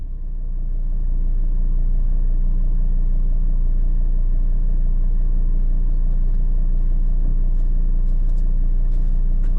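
A car interior with a constant loud low rumble of engine and road noise as the car drives along, plus a few faint clicks near the end.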